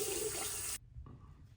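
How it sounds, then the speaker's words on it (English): A tap runs in a bathroom sink while someone rinses off after a wet shave, a steady hiss of flowing water that cuts off abruptly, followed by faint splashing and dripping. "Let me get rinsed up"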